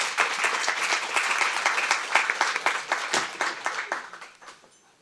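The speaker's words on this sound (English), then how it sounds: "One warm round of applause to Lauri." Seminar audience giving a warm round of applause, dense clapping that holds steady and then gradually thins out and fades toward the end, with no talking over it.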